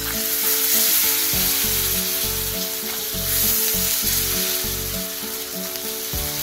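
Soaked chana dal fries with ground coriander and cumin in a pan, sizzling loudly and steadily throughout. A low, pulsing hum runs underneath the sizzle.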